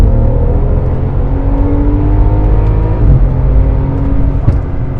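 BMW F10 fitted with an ARC Terminator EKPM3 pulls hard through second gear, a loud sustained engine drone whose pitch climbs as the revs build.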